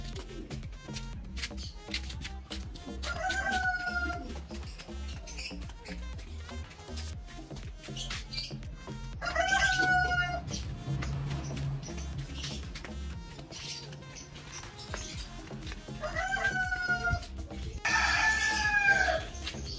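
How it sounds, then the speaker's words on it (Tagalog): Backyard chickens and roosters waiting to be fed: a rooster crows several times at intervals, with clucking and scattered squeaky calls over a steady low background. "papakainin muna natin yung mga to, yung mga manok natin"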